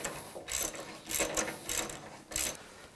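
A tap backing out of freshly cleaned threaded holes on a LeBlond lathe gives a run of dry metallic ratcheting clicks in several short bursts, fairly quiet and close, with no talking.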